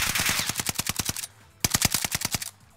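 An NZ gun in Call of Duty Warzone fires two rapid automatic bursts, the first about a dozen sharp shots, then a brief pause and a second burst of similar length, loud and close with no talking.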